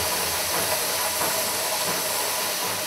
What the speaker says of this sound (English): Did you hear the sound the machine made when it squashed the rubber nuggets into half balls?